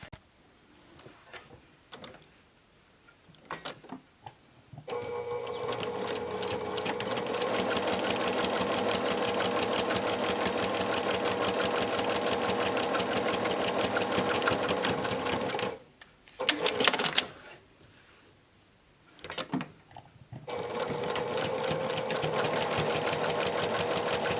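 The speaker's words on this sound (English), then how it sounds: "we're going to top stitch down these 2 short edges" Sewing machine top stitching the two short edges of a fabric face mask keychain case, a long steady close whir broken by a short pause and a few clicks, then running again.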